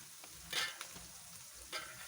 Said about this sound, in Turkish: Evet arkadaşlar domatesi biberlerle buluşturduk.